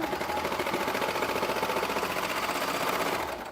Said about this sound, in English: I'm getting more used to it as I'm sewing right now